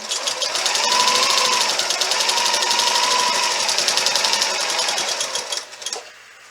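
A sewing machine stitches quilt binding in a fast, even run of rapid needle ticks, close and clear, slowing and stopping near the end.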